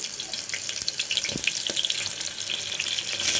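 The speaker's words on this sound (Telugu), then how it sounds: "ఆయిల్ ఇలా హీట్ ఎక్కాక ఇందులో పోపు దినుసులు అయితే వేసుకోవాలి. ఇందులోనే కట్ చేసి పెట్టుకున్న చిన్న ఉల్లిపాయలు వేసుకోవాలి." Tempering spices and small cut onions crackle and hiss loudly in hot oil for a cluster bean curry, a dense continuous sizzle with a few brief pops; no talking.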